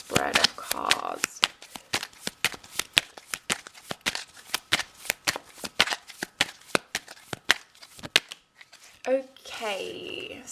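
Tarot cards are shuffled and laid out on a table in a rapid series of sharp slaps and riffles, with a brief pause and some faint rustling toward the end.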